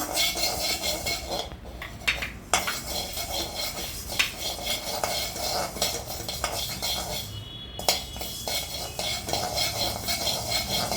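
Mustard and fenugreek seeds roasting in a dry pan for homemade ginger pickle, with a steady scraping stir, clinking utensil hits and a faint crackle throughout.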